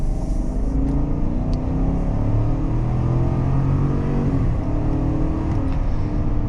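A Chevy Suburban High Country's 6.2-liter V8 accelerates under throttle, a loud, steady low rumble building continuously as heard from inside the vehicle, with no talking.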